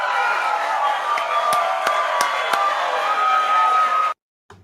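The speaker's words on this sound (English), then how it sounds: "Just a round of applause." A canned round of applause sound effect: dense, steady clapping with a faint crowd wash, holding evenly for about four seconds before cutting off abruptly into silence.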